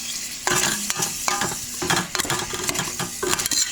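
Chili in a pot being stirred after McCormick's original chili seasoning is shaken in, with a steady scraping swirl of the spoon against the pot and soft sizzling underneath, close and moderately loud.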